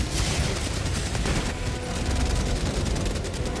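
Heavy gunfire in Helldivers 2, a dense continuous barrage of rapid shots and booms, loud and close throughout, with no talk over it.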